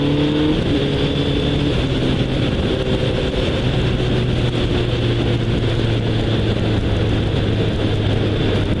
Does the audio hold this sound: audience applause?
no